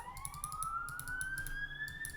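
A police siren in the video game Minecraft Dungeons rises in a steady upward wail, clear and alone over faint game background sound.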